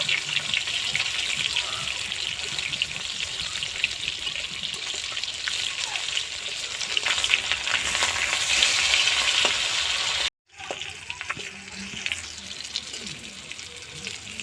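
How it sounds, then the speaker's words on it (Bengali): Bhola fish frying crisply in hot oil, a steady dense sizzle and crackle close up that runs continuously, cutting out briefly near the end before resuming, with no talk over it. "এবার ভোলা মাছগুলো কড়া করে ভেজে নেব।"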